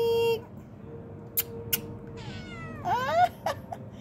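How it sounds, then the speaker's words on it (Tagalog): A cat meows indoors, a drawn-out call at the start and then a few short, rising meows near the end, moderately close over a low background hum. "Meow."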